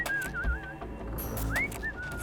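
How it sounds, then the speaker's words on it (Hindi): Eerie whistling wind moaning through the broken windows of a haunted mansion, a wavering tone that slides up and down and rises in a few short swoops, heard alone with no talking. "टूटी खिड़कियों से अजीब सी सीटी जैसी आवाज आ रही थी"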